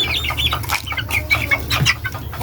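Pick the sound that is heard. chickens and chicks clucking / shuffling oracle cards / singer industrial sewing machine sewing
chickens and chicks clucking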